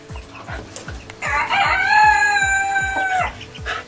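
Chickens at a hen house on a Maine farm, with a rooster's loud, drawn-out crow over a steady rhythm of repeated clucking from the flock, heard close and with no talking.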